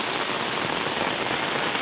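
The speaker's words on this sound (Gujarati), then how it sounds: "વરસાદ આવ્યો અમારે જો" Heavy rain pours down on a village in Gujarat, a dense, steady hiss of drops drumming on surfaces, loud and unbroken with no voices.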